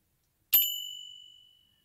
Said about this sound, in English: The bell actually does ring.